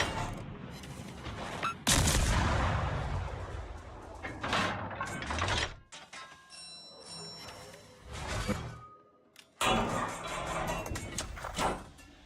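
Warship guns firing in World of Warships during a naval battle against an Omaha cruiser: several heavy, booming salvos arrive in bursts, separated by quieter mechanical clanks and rumbling gaps.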